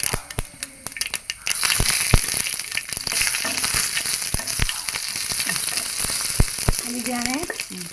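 Hot coconut oil crackles in a pan as tempering for a breadfruit fry, a constant close sizzle punctuated by sharp pops and spits throughout.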